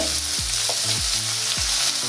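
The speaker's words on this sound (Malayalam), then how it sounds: "ഈ സവാള ഒന്ന് വഴണ്ട് വരുമ്പോഴേക്കും" Onions sauté in a pan with salt for a chicken rogan josh, a steady close sizzle broken by several scraping stirs of a spatula at regular intervals.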